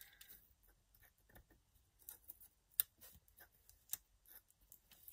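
Scissors trimming a paper planner page, a series of soft, close snips and clicks with quiet rustling between them.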